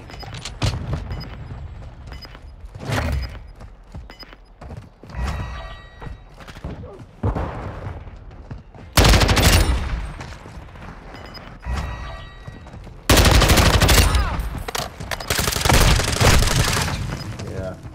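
Shotgun blasts in a video game fire in heavy, booming bursts separated by short pauses, with a couple of louder, sustained volleys and some speech woven between them.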